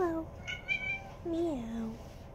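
A cat meows twice indoors, each call drawn out with a rising then falling pitch, close and clear over a quiet room.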